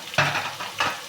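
Garlic-ginger paste being stirred into chillies frying in oil for chicken biryani, two scraping sweeps of a spoon through the pan over a steady close sizzle.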